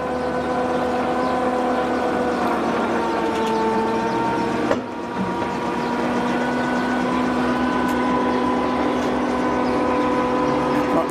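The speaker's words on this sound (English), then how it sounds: "Raising that fast because we haven't got the PTO motor running very fast." Electric tractor PTO motor raising a mower: a steady, close electric whine with layered tones and a constant hum, briefly interrupted by a click partway through.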